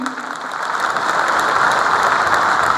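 An audience at a political rally applauds, with dense, continuous clapping that swells slightly and stays loud to the end.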